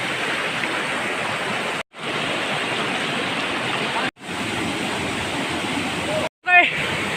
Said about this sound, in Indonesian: di perjalanan ternyata ada air terjun, lumayan lah, itu ada air terjun.